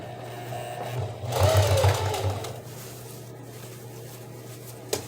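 A sewing machine backstitching a seam on a pair of pants, giving a short buzzing whir of about a second close by, then a quiet hum and a small click.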